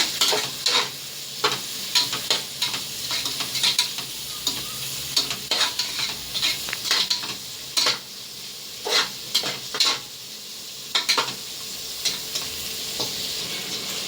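Onions fry for a mushroom biryani and are stirred until golden, giving a constant loud sizzle broken by frequent scraping and clinking of a spoon against the pot, with no talking.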